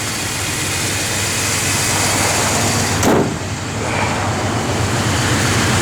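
A 1957 Ford Ranch Wagon with a 390 engine idling steadily, a loud continuous low rumble with a brief thump midway and no talking.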